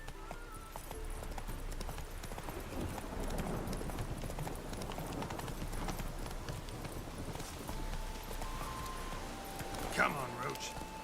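Galloping hooves of Roach the horse in The Witcher 3, a steady rapid clip-clop rhythm under ambient game sound, with a brief whinny-like cry near the end.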